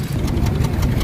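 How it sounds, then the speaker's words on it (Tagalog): Rough, uneven exhaust note from a misfiring Hyundai Accent 1.4 gasoline engine at idle, loud and close, with a steady throbbing drone and irregular pulses. "Malakas yung tunog ng tambot."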